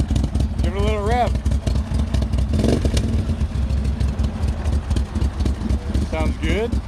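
Can-Am Maverick Sport XMR 1000R V-twin fitted with a Yoshimura exhaust, loud and close, its choppy idle lifting in a short rev midway before settling, while people talk briefly at the start and end.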